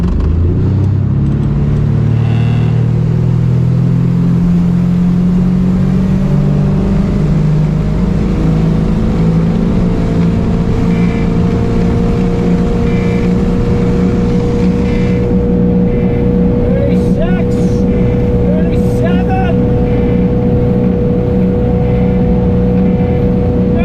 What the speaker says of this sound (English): New fuel system, most power the boat's ever had.